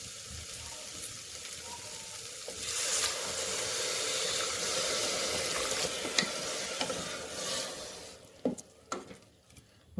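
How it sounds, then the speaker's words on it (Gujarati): Water is poured into a hot pan of poha and vegetables, giving a quiet sizzling, bubbling wash that builds for several seconds, then settles into soft scraping and clinks of stirring. "હવે આપણે જરૂર પૂરતું પાણી એડ કરી દઈશું"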